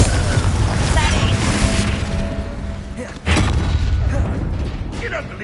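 A Confringo blasting-spell explosion in the Hogwarts Legacy video game: loud, rumbling combat noise with a sudden sharp blast about halfway through, followed by a sustained roar.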